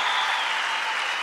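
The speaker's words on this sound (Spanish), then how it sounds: "Un aplauso para ella." A brief burst of audience applause during a comedy show, dense and steady crowd clapping at full level for the whole moment.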